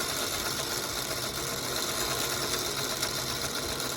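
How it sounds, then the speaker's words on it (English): A sewing machine stitches fabric slowly around curves, a steady close mechanical whir and hum running evenly throughout with no talk. "I'm just going slow on the curves, just like when you're driving. I'm using a foot that has an open space here so that I can see exactly where my needle is going"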